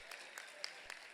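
Faint, distant applause from a church congregation at a peace concert event in Salvador, a soft steady patter of clapping with a few sharper claps, no talk over it.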